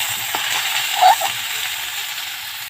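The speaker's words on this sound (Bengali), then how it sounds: "আলুগুলো আমি লাল করে এর সঙ্গে ভেজে নেব একসঙ্গে।" Potatoes and cauliflower fry together in a pan for a home-cooked winter vegetable dish, giving a steady close-up sizzling hiss with a faint clink partway through and no talking.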